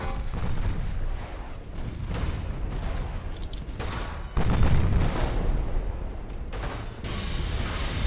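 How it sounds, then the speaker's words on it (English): Naval main battery gunfire booms in a 1930s cruiser battle in the Ultimate Admiral Dreadnoughts video game, several heavy low blasts rolling over one another amid continuous rumbling battle noise, no voices. "get away from his main battery fire"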